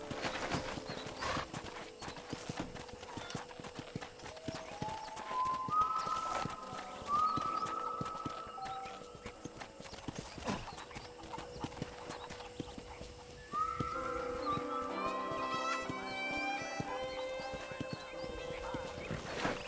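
Steady clip-clop of horse hooves trotting throughout, with a horse whinnying and a voice speaking over it, from the video game Red Dead Redemption.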